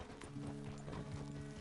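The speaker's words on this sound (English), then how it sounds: "The horse can feel your fear." Faint, soft hoof clip-clops from a horse being ridden, with uneven steps under low background noise and no clear talking.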